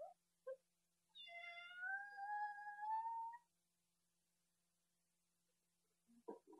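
A black cat in a 1984 animated film gives a single drawn-out, wavering meow, close and clear. A couple of brief, faint knocks come before it and after it. No one speaks.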